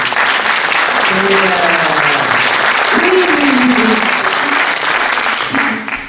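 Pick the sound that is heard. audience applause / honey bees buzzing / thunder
audience applause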